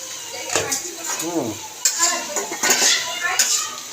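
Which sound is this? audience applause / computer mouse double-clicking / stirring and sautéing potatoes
stirring and sautéing potatoes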